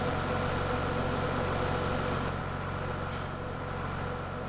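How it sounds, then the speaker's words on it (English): A tractor engine in Farming Simulator 17 drones loud and constant, a thick steady rumble that barely changes over the few seconds. "Tractor's so loud"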